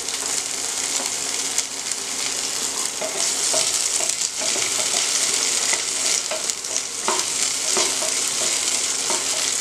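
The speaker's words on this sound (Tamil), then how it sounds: "இப்போ எண்ணெய் நல்லா சூடாயிருச்சு எடுத்து வச்சுருக்க சின்ன வெங்காயத்தை போட்டு நல்லா வணக்கிக்கணும்" Shallots hiss and sizzle loudly in hot oil, a dense continuous frying sound with occasional stirring scrapes, close and without talk.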